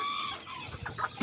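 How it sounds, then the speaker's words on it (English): Azteca chickens with young chicks in a farmyard, a hen's soft clucks rising into several short, fairly close calls near the end, with no one speaking. "You can see all the little chicks right there."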